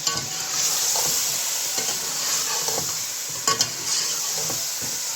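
Tomatoes going into a pan of frying mixed vegetables, a loud, bright hissing sizzle throughout with repeated spoon scrapes and stirring clatters at irregular intervals, no voices.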